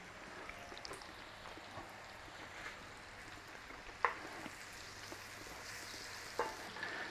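Beef frying in butter in a pan over a moderate flame, giving a steady soft sizzle with occasional faint pops and stirring clinks, heard alone without voices.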